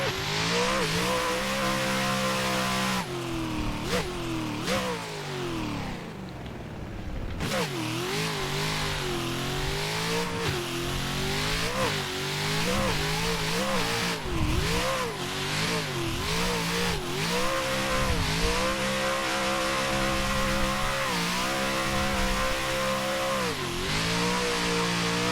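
Race car engine in Assetto Corsa revving hard through a corner taken at a big drift angle, pitch rising and dipping repeatedly with throttle changes, loud and continuous for the whole stretch with a brief tire squeal.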